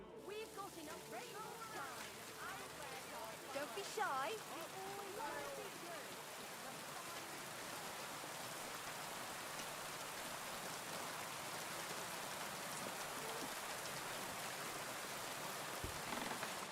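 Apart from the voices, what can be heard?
rain in video game Kingdom Come Deliverance II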